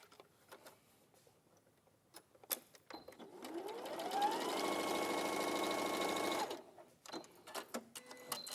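A sewing machine stitches through layered fabric scraps, spinning up into a fast, steady whirring run of a few seconds before stopping, framed by quieter handling clicks and rustles.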